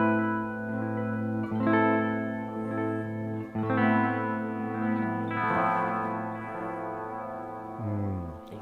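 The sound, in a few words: guitar through tremolo into Strymon Volante echo pedal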